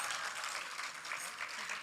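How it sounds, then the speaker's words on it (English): An audience at a cultural festival in Harare applauds performers with a dense, even wash of clapping, moderately distant and sustained throughout without pause. "Ladies and gentlemen, a huge round of applause for our performancers, please."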